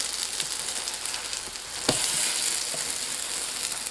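A meat-filled pancake sizzles in an oiled pan after being flipped, a steady close frying hiss with one brief knock midway.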